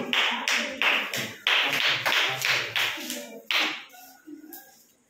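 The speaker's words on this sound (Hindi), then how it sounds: "ताली बजाओ भाई।" Children clap together in a classroom during a maths lesson, a run of about eight loud, close bursts of clapping in an uneven rhythm that fades out toward the end, with no talking.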